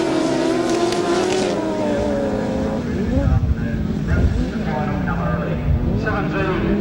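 A grasstrack racing motorcycle engine at a 1999 summer meeting holds a sustained, rising roar under throttle, several bikes droning together, while a commentator talks continuously over it.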